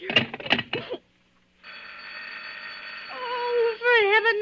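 An old-time radio drama telephone bell rings in sustained bursts after a voice, with a gap of silence between, loud and close, ending under rising wavering tones.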